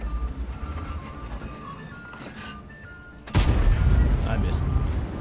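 A World of Tanks tank gun fires with one sudden heavy boom partway through, after a stretch of lower engine rumble and game ambience, followed by a sustained louder roar, with someone talking.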